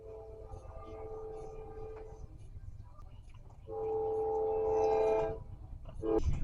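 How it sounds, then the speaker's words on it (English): A train passes at a distance, a low steady rumble that swells for a couple of seconds with a sustained tonal horn-like wail before fading, then surging again at the end. "oh, there's a train coming."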